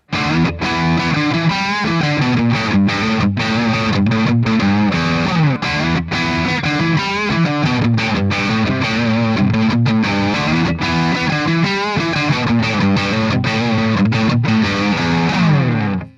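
A heavily distorted electric guitar plays a chugging riff on the neck pickup with a warm, rounded tone, loud and continuous with rhythmic palm-muted stops.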